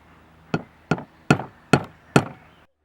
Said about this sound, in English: I'm just going to use a hammer and a nail to make a few holes in the bottom